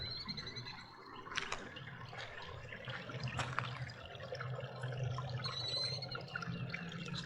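Water pours into a pond with a continuous soft splashing trickle under outdoor ambience, faint and fairly steady with a few louder drips and splashes.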